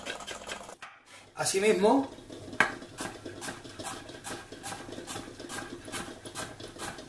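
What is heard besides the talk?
chopping carrot with a knife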